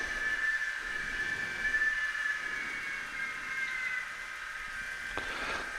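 A Fleischmann BR 245 model locomotive passes through with its wagons, giving a steady close rolling hiss with a high wheel whine and a faint clatter near the end. No voices.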